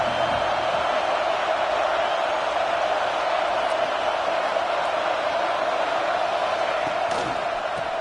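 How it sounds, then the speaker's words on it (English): A football stadium crowd roars as one broad, steady wall of noise, loud and continuous, with a few faint sharp accents rising above the wash. "this crowd is turning it up a notch"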